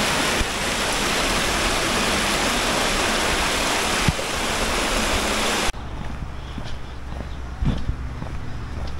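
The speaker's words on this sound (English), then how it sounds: "How much water in that river?" A river rushes past in the Scottish countryside near Comrie, a loud steady broadband roar that drops abruptly to a quieter flow with faint background sounds.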